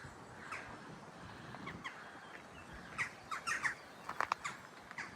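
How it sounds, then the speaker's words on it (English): A crow squawks several times by a river, faint and somewhat distant, harsh calls clustered in the second half over quiet outdoor ambience. "Oh, is that a crow?"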